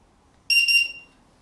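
Quanum ground station LiPo battery alarm beeping with a loud, steady high-pitched electronic tone, sounding about half a second, then cutting off.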